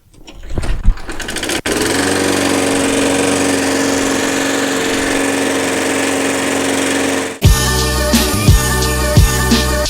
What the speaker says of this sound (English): get this water hose on this lawnmower, crank her up. Let's see if she starts.